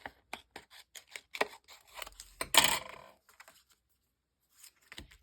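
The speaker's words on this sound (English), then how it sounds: "I'm going to use the white paper that was on the adhesive, on the glitter film, and just cut it to fit behind." Scissors snip through the white paper backing peeled from adhesive glitter film, trimming it to fit behind for a handmade card; a quick run of close, crisp snips and rustles, then a pause and a couple more cuts.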